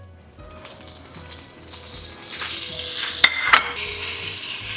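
Unsalted butter and flour cooking over medium heat for gravy, giving a steady sizzle that builds in loudness while it is stirred, with occasional sharp scrapes near the end.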